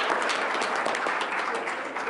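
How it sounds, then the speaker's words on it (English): A meeting audience claps in a short, dense burst of steady applause that holds at an even level for about two seconds. "Can I get a clap for that"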